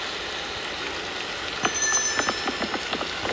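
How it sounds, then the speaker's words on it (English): Rain falls in a park, a steady hiss of drops with scattered louder patters and taps on nearby surfaces growing more frequent toward the end, close and moderately loud. "it is very rainy"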